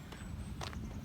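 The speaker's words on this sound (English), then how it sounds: "The horses are over there." Horses moving nearby on a farm, with soft hoof clip-clops and footfalls over a steady low outdoor rumble, a brief brighter scuff partway through.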